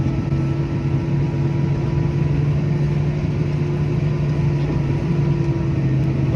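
A four-wheel-drive farm tractor pulling a plough sets off across a field, its diesel engine droning steadily and loudly at close range with a constant low hum and no voices.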